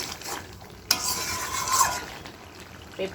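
Potatoes and papaya going into a pot of spicy duck curry and being stirred, a sharp clatter of pieces dropping in followed by scraping stir strokes over a soft steady sizzle, close and moderately loud.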